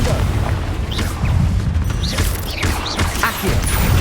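Confringo spell blasts go off in Hogwarts Legacy during combat, a run of loud booming bursts layered with crashes and whooshing effects that continue without pause.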